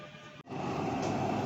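A Dubai Metro train passes close by with a loud, steady rumble and rushing roar that drops out for an instant, then continues evenly.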